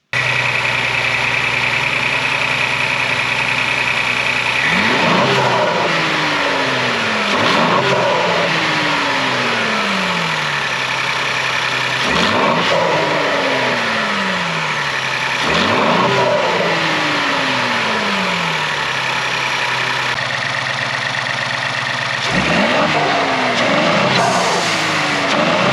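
A Ford Explorer ST fitted with a Turbosmart recirculating blow-off valve revs hard several times, each rise in engine pitch dropping into a falling whoosh before settling back to a steady idle, loud and close with no talking.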